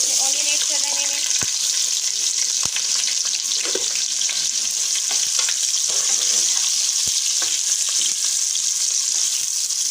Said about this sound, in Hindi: अब हम इसमें ऑनियन ऐड कर रहे हैं।